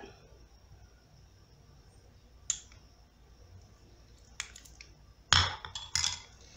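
Coconut oil stirred with garlic juice: mostly quiet, with a few faint utensil clinks early on, then a sharper cluster of clinks and scrapes near the end.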